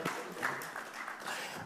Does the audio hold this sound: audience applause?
yes